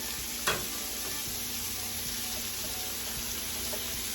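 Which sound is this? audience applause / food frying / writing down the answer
food frying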